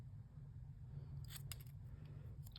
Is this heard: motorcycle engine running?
no